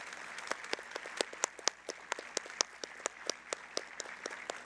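Scattered applause at a middle school graduation for award winners asked to stand, made of distinct individual claps from a smallish crowd in a hall, fairly faint and uneven.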